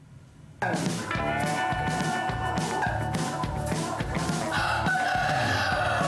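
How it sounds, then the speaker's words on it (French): Featherless chickens on a farm in Rehovot, Israel, cluck and crow loudly and continuously in a close, busy flock chorus, with overlapping calls and a rooster's sustained crow rising above the clatter. "Ce sont les bar chicken, des poulets sans plumes qui font la fierté de leurs créateurs."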